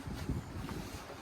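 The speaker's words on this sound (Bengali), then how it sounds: "আজকে অনেক বাতাস" Steady wind buffeting the microphone, a low rumbling roar that holds for the whole short stretch with no voices.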